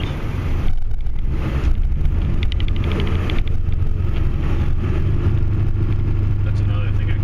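A Ford F250 Powerstroke diesel truck engine rumbles steadily up close while plowing snow in a parking lot, a continuous low drone with a person talking over it.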